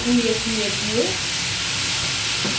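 Leeks hitting a hot pan with a steady sizzle and frying hiss, close and fairly loud, with a few tonal clinks and stirring noises early on and no speech.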